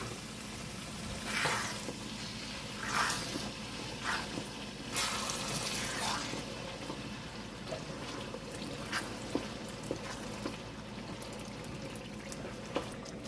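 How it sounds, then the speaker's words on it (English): Olive oil, basil and garlic sizzle and fry in a pan on low heat while being stirred, giving a steady crackle with a few brief louder scrapes and swishes, heard close and alone. "Now adding the olive oil, basil, and garlic. So I'm gonna stir that."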